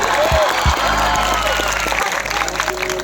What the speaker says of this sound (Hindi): एक ताली इस सक्सेस के नाम पर बजाइए, और वो सबसे बड़ी ताली होनी चाहिए